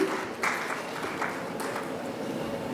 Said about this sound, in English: So with a round of applause once again, let's welcome Dr. Satish Nair.